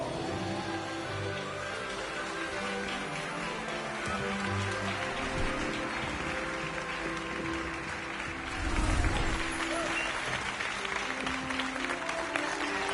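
A crowd of students applauds at the sorting ceremony in Hogwarts Legacy, a dense steady patter of clapping that swells briefly midway and carries on throughout, with faint talk mixed in.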